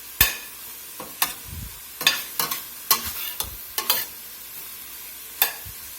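Ground beef with blackening seasoning cooking in a pot over medium-high heat for a Louisiana blackened hamburger soup, a soft sizzle punctuated by a dozen crisp scraping stirs at irregular intervals, close and without talk.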